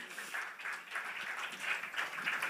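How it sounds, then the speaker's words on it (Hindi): Faint, steady applause from an audience at a press conference for a TV show, a continuous patter of many hands clapping with no voices over it. "जोरदार तालियां हो"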